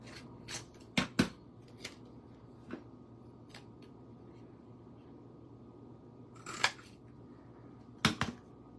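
Scissors cut through card stock in a quiet room, giving a few crisp snips spaced apart. There is a close double cut early, a pair of sharp cuts later, and faint rustling of paper in between.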